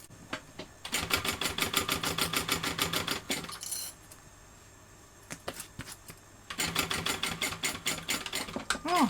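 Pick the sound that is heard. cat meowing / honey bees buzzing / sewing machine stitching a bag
sewing machine stitching a bag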